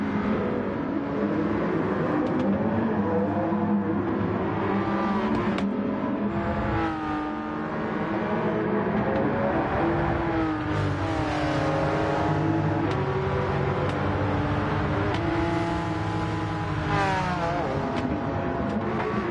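Porsche 911 race car in Gran Turismo 7, engine revving loud and continuous with rising and falling pitch through gear shifts while running in a pack of cars on track.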